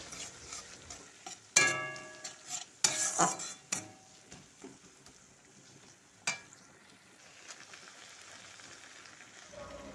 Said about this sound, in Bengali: এটা এবার আমরা মশলাটাকে কষিয়ে নেব পেঁয়াজ আর টমেটোর সাথে